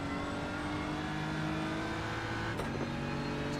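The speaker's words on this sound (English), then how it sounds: "You can hear the V10 in the back of the Audi." Audi V10 race car in a racing video game at Watkins Glen, with a steady, sustained engine drone throughout and a brief shift in pitch near the end, with no talk.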